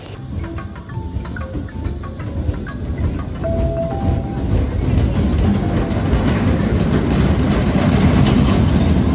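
A roller coaster train at Worlds of Fun amusement park runs along its track, a steady loud rumble and clatter that builds over several seconds, with faint tonal squeals and no speech.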